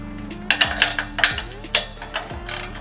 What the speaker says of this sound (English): I'm going to loosen these and we'll take these bolts out